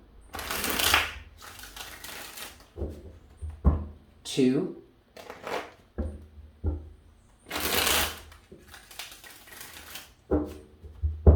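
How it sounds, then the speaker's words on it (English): Tarot cards are shuffled in several crisp riffling bursts, separated by pauses, while a person speaks briefly between shuffles. "I'm going to give this 3 shuffles."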